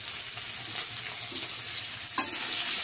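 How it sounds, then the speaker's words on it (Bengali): Onions fry gently over low heat in a pan of oil, a steady close sizzle with a couple of soft stirring scrapes and no talking. "পেঁয়াজগুলো এবার আমি হালকা করে ভাজা করে নেব, একটু হালকা মতো করে ভাজা করে নেব।"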